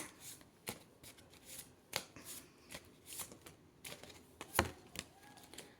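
Tarot cards are shuffled close by in quiet, riffling bursts with sharp slaps and soft rustles scattered unevenly across the stretch, with no voices.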